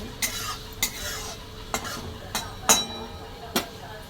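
Fried onion being ground for a homemade aloe vera hair remedy gives about seven sharp, evenly spaced knocks over a soft background hiss.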